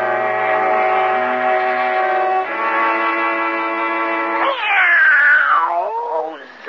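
A drawn-out, wavering cat-like yowl, loud and close, sliding in pitch before a final rising wail; it may be a voice imitating a cat.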